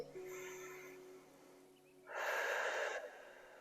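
A person's slow breathing during a lower-body stretching exercise: a soft breathy exhale, a pause, then a stronger, louder exhale lasting about a second, close to the mic and with no talk.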